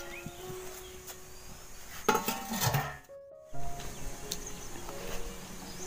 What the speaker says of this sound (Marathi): आता ह्याच्यावर मी ठेवते झाकण आणि चांगली उकळी येऊन देते.